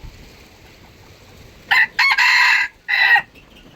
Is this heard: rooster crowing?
yes